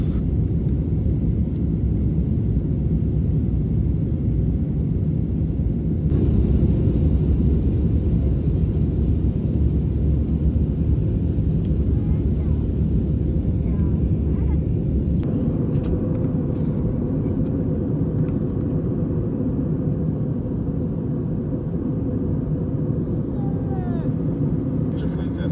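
Airplane cabin noise during an early morning flight: a loud, steady low roar and hiss that fills the whole stretch, with a slight shift in tone partway through.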